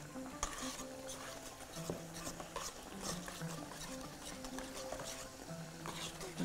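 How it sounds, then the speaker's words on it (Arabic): A utensil whisks mini waffle batter vigorously in a bowl, producing continuous quiet scraping and tapping strokes in a fast, uneven rhythm, close up with no talking. "هقلب بقى جامد قوي قوي قوي لحد ما يبقى الخليط عندي جاهز ناعم"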